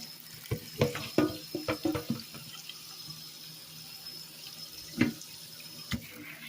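Tap water runs steadily as mulberries are washed, with clustered splashes and knocks of hands and fruit in the sink, busiest early on and then a couple of isolated splashes later.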